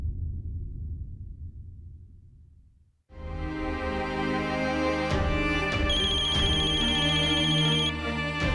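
A phone ringtone starts abruptly after a few seconds of low background rumble and keeps ringing loudly with a bright, repeating melodic tone.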